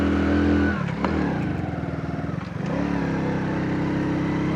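A vehicle engine labours in first gear climbing a rough mountain pass road in Balochistan, a steady close drone that dips and throbs in the middle before settling back into an even pull.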